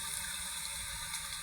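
A stream, or sapa, flowing in a rural barangay, a steady close wash of running water without talk.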